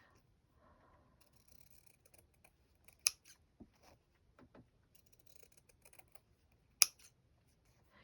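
Scissors cut up fabric scraps for a slow stitching project in a quiet room, with scattered soft snips and two sharp, distinct blade clicks standing out.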